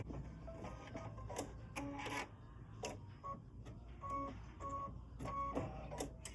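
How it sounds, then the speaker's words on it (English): An embroidery machine stitches inside the foam area of a Kimberbell gift pocket, a steady mechanical whir with repeated short clacks and tonal needle pulses running continuously at close range. "now I'm going to go ahead and stitch the stitches on the inside where the foam is"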